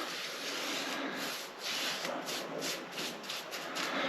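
Inch-wide paintbrush applying white chalk paint to a radiator, a close, soft scratchy rubbing of bristles in repeated strokes.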